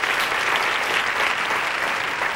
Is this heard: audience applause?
yes